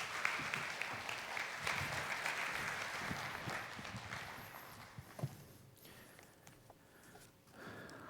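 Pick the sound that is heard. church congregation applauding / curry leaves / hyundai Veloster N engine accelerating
church congregation applauding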